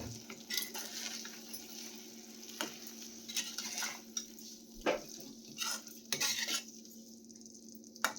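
Spring onion being stirred into Chinese Manchurian in a pan, with scattered metal utensil scrapes and clinks over a low sizzle, close and fairly quiet, with no talking.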